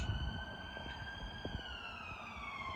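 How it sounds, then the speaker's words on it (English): A distant police siren wails steadily, its pitch sliding slowly downward as it passes, over low background rumble. "another emergency services, probably police, going past"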